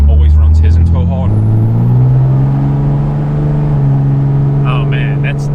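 A 5.9 Cummins truck with a built transmission drones steadily up close; early on the engine note drops and settles lower as the converter locks. Voices talk over the engine at the start and near the end.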